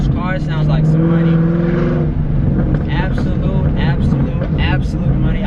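A 2017 Camaro 2SS V8 rumbles and rises in pitch under acceleration while driving, loud and close, with brief crackling bursts scattered through the latter half.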